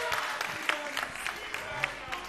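Scattered hand claps from a small group on a show set, fairly faint and uneven, with some voices mixed underneath.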